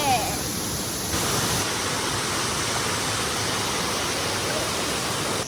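Kuang Si waterfall in Luang Prabang, Laos, roars as a dense, steady wash of falling water close by, with no clear voices over it.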